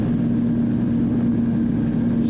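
A radio-controlled model airplane makes a pass over a club runway, its engine a steady, continuous buzzing drone with a sustained tone, fairly loud throughout.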